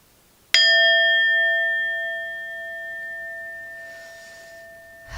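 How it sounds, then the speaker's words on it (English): A single bell strike rings out clearly, then its bright tone hangs and slowly fades over several seconds. "I don't know if you guys will hear this if this bell goes"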